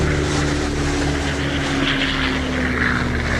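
World War II propeller aircraft engines drone in a loud, steady, unbroken rumble with a low throbbing hum, heard alone with no talking.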